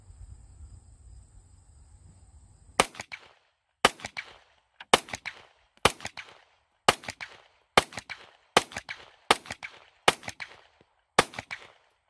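Ten sharp 9mm pistol shots from a Taurus GX4XL at an outdoor range, fired at a steady pace about one per second, each loud and close with a brief ringing tail, after a few seconds of quiet.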